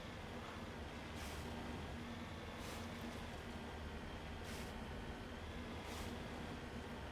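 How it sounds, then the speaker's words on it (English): Steady engine whine from a vehicle in Mass Effect Legendary Edition, resembling a twin-screw supercharger, a sustained droning hum with a faint pitched tone running underneath and soft periodic hissing pulses, with no one talking. "the thing already sounds like it's running a twin-screwed supercharger. It's got that telltale whine"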